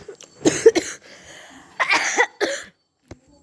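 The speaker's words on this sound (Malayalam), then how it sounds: "ചുമ" Several sharp coughs indoors at a relative's house, a pair of bursts early, then a quieter gap followed by another cluster of two, close and fairly loud with no talking over them.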